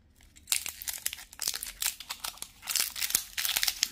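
Cardboard and plastic packaging of a small white electric shaver box crinkles and rustles as it is opened, a run of close, fairly quiet crackling bursts with no talking.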